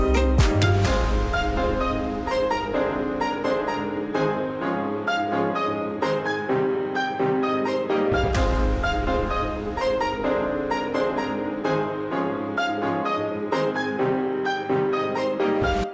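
EDM breakdown produced in FL Studio, with sustained piano chords and strings over deep booming toms that punctuate the start and middle, playing continuously and fairly loud throughout.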